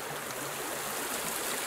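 A river flows past a riverside promenade, giving a steady, even broadband rush of moving water throughout a short stretch, with no voices over it.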